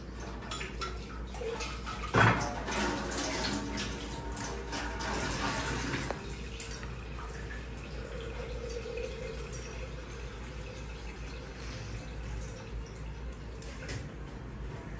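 Tap water runs steadily while raw chicken is washed in a village kitchen, a constant hiss with occasional splashes and a sharp clink of a pot or dish early on, no talking.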